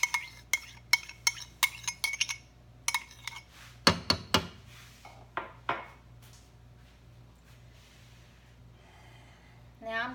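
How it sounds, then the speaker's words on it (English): A spoon stirs a hamburger casserole mixture containing Worcestershire sauce and condensed tomato soup, producing scattered sharp clinks and taps against the dish, some in quick clusters, over a faint steady background hum. "Now I'm going to stir it, combine it all, mix it all up."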